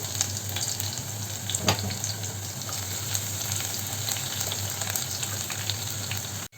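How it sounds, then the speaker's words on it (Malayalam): Ginger and garlic fry in hot oil for a Kottayam-style fish curry, giving a steady close sizzle with occasional scrapes and clicks of a spoon stirring the pan, with no voices. "ഇഞ്ചിയും വെളുത്തുള്ളിയുമാണ് ചേർത്ത് കൊടുക്കുന്നത്."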